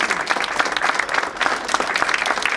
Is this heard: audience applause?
yes